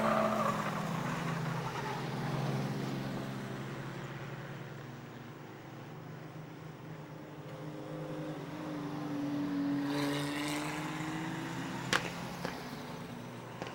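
Modified production race cars at Maryborough Speedway pass by, their engines rising and fading as a steady, moderately distant roar with a Doppler swell near the end.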